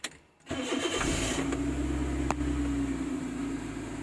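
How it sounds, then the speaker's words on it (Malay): A car engine cranks and catches within a second, then settles into a steady, close idle that continues to the end. "Ini boleh kita start engine"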